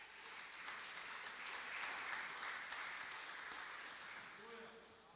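Church congregation applauding in praise during a worship service, a broad sustained wash of clapping that swells and fades over several seconds, with faint voices mixed in.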